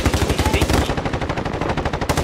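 Machine gun fire in the Warzone game, a loud, rapid, unbroken burst of evenly spaced shots rattling close by for about two seconds.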